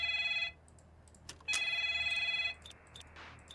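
A telephone rings in the horror video game Five Nights at Maggie's, two loud electronic ring bursts separated by a short pause, clear and alone with no talk.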